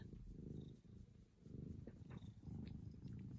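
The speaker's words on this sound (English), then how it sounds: "And you can hear the purrs." A cat purrs while being stroked, a close, soft low rumble in three rhythmic bursts with brief pauses for breath between them, heard alone.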